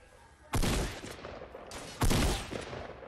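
Two loud, close blasts of gunfire from the video game Fortnite, each a sharp burst with a short decaying tail, spaced about a second and a half apart over a faint background.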